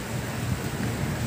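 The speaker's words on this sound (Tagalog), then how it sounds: "Napakalakas na ulan sa bukid." Heavy rain pours down on a farm field, a dense, constant hiss with a low rumbling undertone and no break in the downpour.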